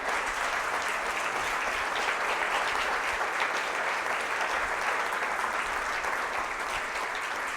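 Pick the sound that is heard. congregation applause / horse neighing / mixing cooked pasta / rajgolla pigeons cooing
congregation applause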